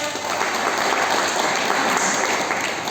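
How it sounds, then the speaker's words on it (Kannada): An audience at a Kannada spiritual discourse claps loudly and continuously, a dense, even wash of applause lasting about three seconds. "ಸ್ವಲ್ಪ ಜೋರಾಗಿ ಚಪ್ಪಾಳೆ"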